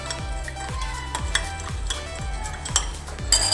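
Chicken coated with sugar is stirred in a hot pan, a steady run of rhythmic scraping strokes, roughly two per second, over a continuous sizzle, close and clear.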